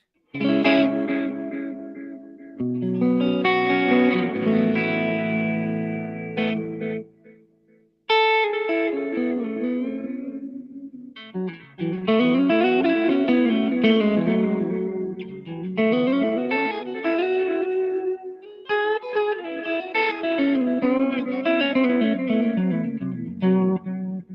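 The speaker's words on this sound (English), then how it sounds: "this is just what my space echo sounds like" An instrument played through a Roland RE-201 Space Echo tape echo: sustained, wavering tones with repeating echoes and a warbly tail, in a few phrases separated by brief pauses, with no talking.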